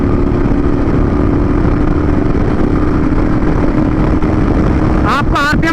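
A Royal Enfield motorcycle engine held at full RPM, a steady loud drone with wind roar throughout, with a brief whistling squeal near the end.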